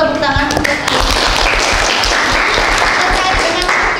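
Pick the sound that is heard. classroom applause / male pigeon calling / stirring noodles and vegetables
classroom applause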